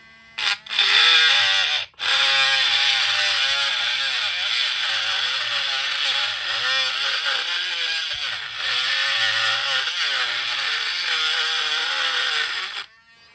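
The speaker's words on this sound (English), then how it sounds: "a 1/8 inch cobalt drill bit with a low powered Dremel tool" A low-powered Dremel rotary tool with a 1/8-inch cobalt bit whines at high speed while drilling a Hot Wheels toy car, its pitch wavering as the bit bites, with brief pauses near the start and a stop at the end.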